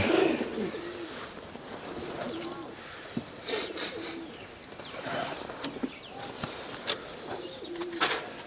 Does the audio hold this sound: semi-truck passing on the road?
no